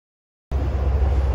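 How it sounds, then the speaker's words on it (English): Steady broadband traffic roar from a major highway close by, starting abruptly after half a second of silence and continuing as a dense, unbroken rumble with strong low-end weight. "I'm sorry for the noise. There is a major highway right here."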